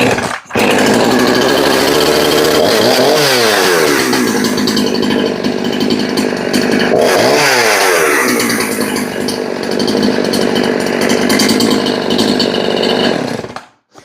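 Husqvarna 353 chainsaw with a faulty off switch idling loudly and close by, its engine steady with two brief revving swells before it cuts out abruptly at the end.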